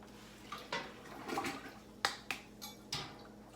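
Water sloshes and splashes while sugar is rinsed out of a container, with a handful of sharp, quiet clicks and knocks from the vessel spaced irregularly over the faint running of water.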